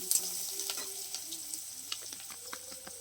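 Chopped onion frying in a pan, a continuous close sizzle broken by repeated light clinks and scrapes of a spoon stirring, with no talk.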